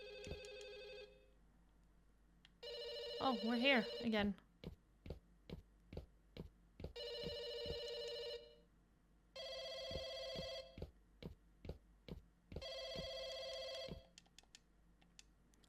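A phone rings in the horror game Firework, with repeated bursts of an electronic ring separated by silent gaps, sharp tapping clicks between them, and a voice speaking briefly over one burst.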